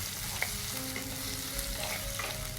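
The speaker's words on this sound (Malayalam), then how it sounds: "ഇവിടെ നല്ലപോലെ ഒന്ന് വഴറ്റിയെടുക്കണം" Onion and half a tomato sauté in a pan for a coconut-based fish curry, giving a steady close sizzle with light stirring scrapes and no voices.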